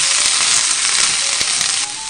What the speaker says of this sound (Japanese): そして炒め合わせて